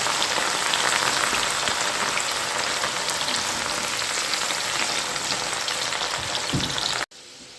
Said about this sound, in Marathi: तुम्ही पाहू शकता आपली डाळ ही छानपैकी आता तळत आहे